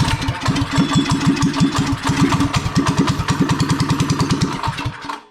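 A drift trike's small engine runs with a rapid, chugging pulse, loud and close, holding steady before cutting off and fading out near the end.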